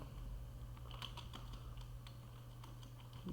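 Computer keyboard keys tapped while writing C++ code, a quiet run of irregular clicks over a steady low hum, with a faint thud at the end.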